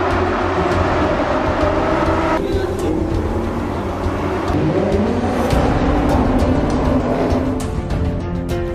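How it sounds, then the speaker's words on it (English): More than 30 Lamborghini race car engines rumble and rev together at close range at Sepang circuit, Malaysia, a loud, continuous roar with shifting pitches. "more than 30 Lamborghinis started their engines at the track"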